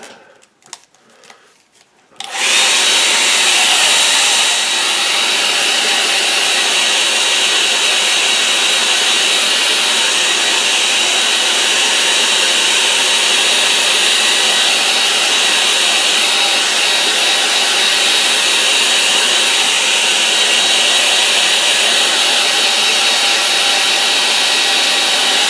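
A hair dryer is switched on after a few quiet seconds and runs loud and steady to dry a watercolour painting of a snowy lane, a constant close whooshing drone with no talk.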